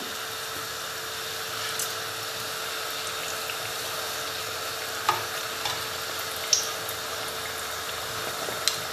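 Stuffed pastels filled with ratatouille vegetables fry steadily in a pan after being turned over, a dense even sizzle with a few faint clicks and pops, no voices.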